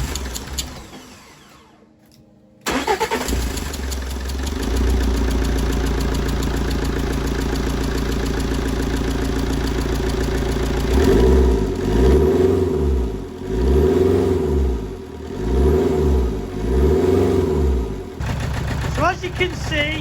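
Vauxhall Corsa D 1.9 CDTi Z19DTH diesel engine, wired up outside the car and run on a bench-wired throttle pedal, cranks and catches, then idles steadily up close before four rhythmic revs rise and fall.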